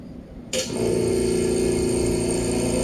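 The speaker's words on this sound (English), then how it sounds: "We're going to power the machine on." A Bunn Nitro coffee machine switching on, the near-silent start giving way to a sudden steady motor whir and hum that continues evenly.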